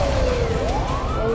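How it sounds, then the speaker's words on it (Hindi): A wailing air raid siren in Ukraine rises and falls steadily over a continuous low rumble, loud and sustained throughout. "हवाई हमले वाला सायरन बार बार बजने लगा है।"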